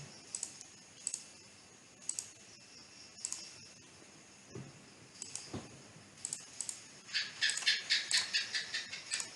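A computer mouse clicking while working in foundation design software: sharp, isolated clicks spaced a second or so apart, near and quiet, followed by a quicker run of taps at the end.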